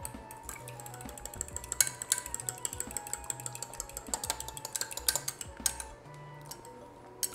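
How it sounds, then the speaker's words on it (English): A fork lightly whisking in a bowl for sugar cookie dough, giving rapid, close, light ticking clinks against the side, irregular but continuous, with faint kitchen background and no speech. "So I have lightly whisked this."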